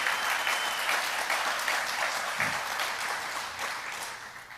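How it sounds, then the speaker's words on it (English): An audience claps at a computer science education event, a dense, sustained round of applause that holds steady for several seconds and then slowly tapers off. "give Anthony a round of applause"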